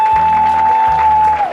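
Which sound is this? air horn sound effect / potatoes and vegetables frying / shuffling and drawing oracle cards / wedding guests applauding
wedding guests applauding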